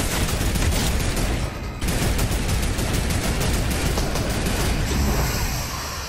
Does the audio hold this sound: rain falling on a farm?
no